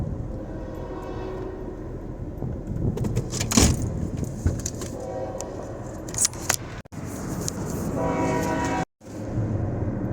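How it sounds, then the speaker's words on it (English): Two locomotives cross a bridge with a heavy, rolling roar and squealing metal, a horn-like tone rising midway, the sound swelling and fading at a distance. "that was just two locos heading over the bridge"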